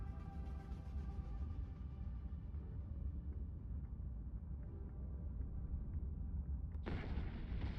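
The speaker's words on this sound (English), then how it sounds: "the autocannon is so much better" Autocannon fire in the space game Eve Frontier, a steady low rumbling barrage of heavy booms that runs the whole time, with a sharper burst near the end.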